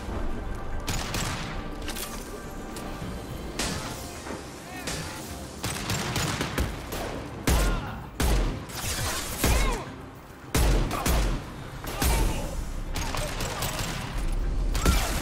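Sustained gunfire in Mass Effect 2, a dense wash of weapon fire and impacts with louder thumping bursts later on, busy battle noise throughout with voices talking over it.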